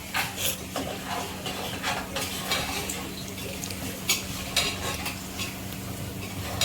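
Cashews fry with onions in a pan for pulao, a constant sizzle broken by repeated quick scrapes and clinks of a spoon stirring, close and fairly loud.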